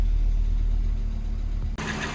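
An Audi quattro coupe with the 7A 20-valve engine idling from cold, giving a steady low hum with a fine tappety ticking running through it, close and even until a brief dip near the end.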